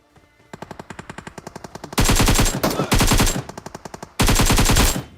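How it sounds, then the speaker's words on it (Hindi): Gunfire in the mobile battle royale game BGMI starts as a steady, quick rhythm of separate shots, then breaks into loud, dense bursts of automatic fire, close and alone without talk. "अब पूरे मिलिट्री बेस से तगड़े फायर आ रहे थे"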